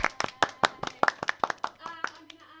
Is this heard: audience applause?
yes